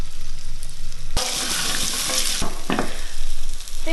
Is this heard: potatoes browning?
yes